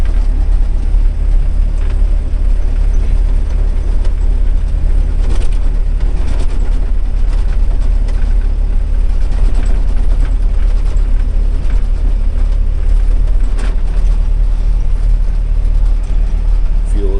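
A tractor engine during haying runs steady and loud throughout, a dense continuous rumble with faint rattling on top, nothing else clearly standing out.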